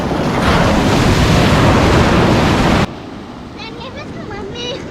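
Ocean surf breaking on an Outer Banks beach, a loud roaring wash with heavy wind buffeting the microphone, then dropping to a softer background rush as people talk faintly over it.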